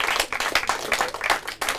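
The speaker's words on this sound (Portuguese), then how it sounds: "Palmas para os navegadores." A brief burst of clapping from a small group at a quiz round, uneven and lively, rising and falling over a couple of seconds.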